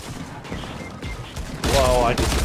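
Explosions and gunfire in the video game Fortnite, a noisy stretch of blasts that swells into a louder burst near the end of the clip, with a voice faintly audible underneath.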